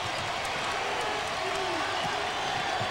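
Energized arena crowd at a North Carolina versus Florida State college basketball game at the Leon County Civic Center in 1995, a steady dense roar of cheering and noise filling the space, with a commentator talking over it.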